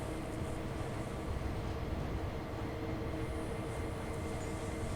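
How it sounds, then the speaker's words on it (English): Steady low rumble and rolling drone of a train in Train Sim World 2 on the Sand Patch Grade, continuous and even for five seconds with a faint high whine, no talking. "So it wants us to stop at Cumberland Station because we have a train coming in"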